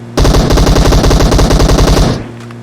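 An enemy's automatic gunfire in a shooter video game during an M24 match, one loud, rapid, evenly spaced burst of about two seconds that cuts off sharply, followed by faint quieter sounds.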